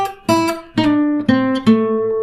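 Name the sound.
electric guitar playing blues lick with half step bend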